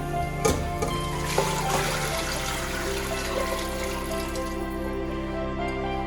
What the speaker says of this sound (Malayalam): അപ്പോൾ ഇനി വെള്ളം ഒഴിച്ച് കൊടുക്കട്ടെ